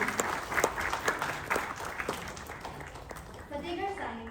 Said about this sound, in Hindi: जोरदार तालियों के साथ इनका अभिवादन किया